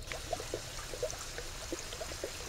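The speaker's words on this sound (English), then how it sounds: "there you see the water flowing into the sump system" Water from a recirculating multi-tank aquarium and aquaponics setup pours into a sump with a steady close trickle and small bubbling splashes over a low hum. No one speaks.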